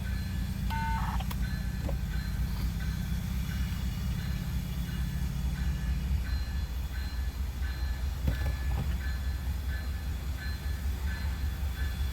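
Locomotives moving through a rail yard, a steady low diesel rumble with a droning engine tone, faint high clanks and a couple of brief tonal beeps, heard from a middle distance without talk.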